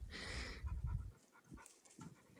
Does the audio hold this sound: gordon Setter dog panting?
yes